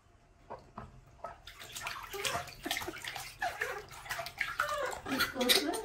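A tiny monkey splashes and paddles in bath water, producing irregular sloshes and drips that build in intensity, while a person talks softly nearby.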